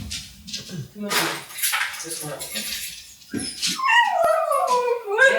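A dog whimpers and yips, needing to go outside to relieve herself, with thin high whines rising toward the end, mixed in with nearby talk from people.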